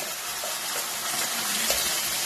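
Onions frying until reddish in a pan for chicken masala, a steady close sizzle and hiss with faint stirring scrapes, no talk.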